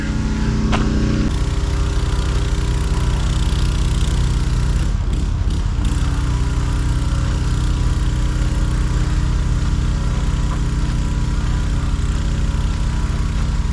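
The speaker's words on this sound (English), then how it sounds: "He's not happy with the sound of the pressure washing of one of the tanks." Steady, loud mechanical engine drone of a pressure washer cleaning a fish-holding tank, running continuously, with a brief dip in the low rumble partway through.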